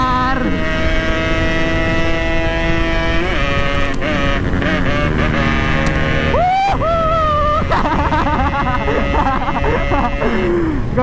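A Yamaha RX King motorcycle revs hard and loud throughout, its engine tone holding steady before sweeping sharply upward in several quick climbs as the bike accelerates.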